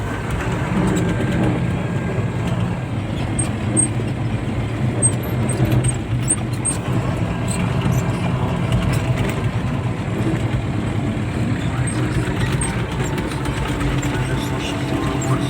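UMZ tractor engine running steadily on the drive home, a continuous low rumble throughout with vehicle noise and faint voices in the background.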